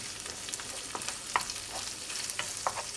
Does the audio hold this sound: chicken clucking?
no